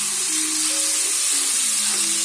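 Garlic ginger paste frying in a pan for a lamb karahi, giving a steady, loud, close sizzle throughout with no one speaking.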